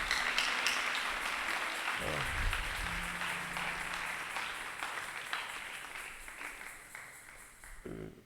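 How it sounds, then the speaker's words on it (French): A church congregation at a Sunday service applauds, with dense, continuous clapping that is loud at the start and slowly fades, and a voice or two briefly heard over it. "Acclamons le Seigneur Jésus-Christ, c'est très bien"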